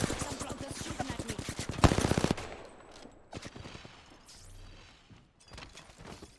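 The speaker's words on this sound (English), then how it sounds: "Some floaters shooting at me." Rapid bursts of automatic gunfire from enemies in Apex Legends rattle loudly for about two seconds, followed by sparser shots, thuds and game effects at lower volume.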